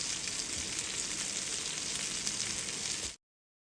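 Fish pieces shallow-frying in a little oil with curry leaves, a steady close crackling sizzle with faint stirring that carries on evenly, then stops abruptly into silence.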